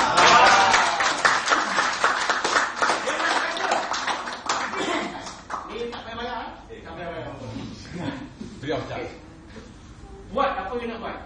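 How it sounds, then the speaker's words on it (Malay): Audience clapping at a Pencak Sendi martial arts demonstration: a dense burst of hand claps fills the opening seconds, then thins out as voices take over and talk continues to the end. "Bagi tepuk tangan."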